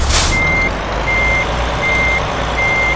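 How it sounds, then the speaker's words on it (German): Truck reversing alarm in Euro Truck Simulator 2, a steady evenly spaced series of four electronic beeps over a loud, constant engine rumble. "So, wir fahren jetzt mal den kompletten Weg rückwärts"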